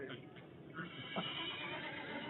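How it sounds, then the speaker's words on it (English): A wild horse neighs in a drawn-out whinny rising and falling over a noisy, busy background, with faint hoof-like thuds and a voice underneath. "Hey, I heard a wild horse."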